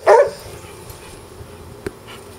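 A dog gives a single short, loud bark close by at the start, followed by quiet room noise and a faint click.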